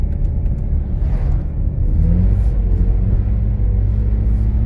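A BMW E46 engine holds a steady low rumble in third gear at about 2000 RPM while the car drifts on snow, close and continuous with a slight rise partway through.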